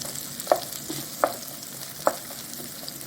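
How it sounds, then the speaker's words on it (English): Diced garlic and onion fry in a pan with a soft steady sizzle, broken by a few distinct stirring scrapes at regular intervals; close and fairly quiet, with no talking. "when you fried your garlic with your onion and they turn a little bit gold"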